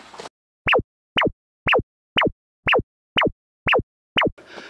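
A wooden signal board on a mountain trail is struck eight times in an even, unhurried rhythm, each knock a sharp hollow clack that stops quickly, with faint outdoor rustle before and after.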